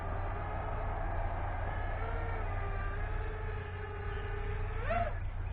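Diatone GT M530 quadcopter hovering close by, its motors giving a steady whine that holds level and then swoops up briefly near the end over a constant low rumble.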